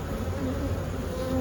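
Honeybees hum in a dense, steady drone around a hive being readied for winter. The buzzing is close and continuous with no talk over it.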